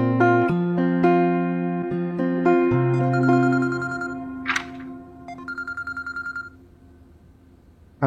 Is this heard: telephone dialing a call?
yes